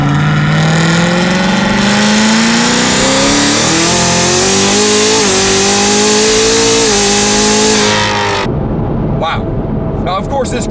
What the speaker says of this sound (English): Now this car also has a Borla exhaust, which explains the loudness to it.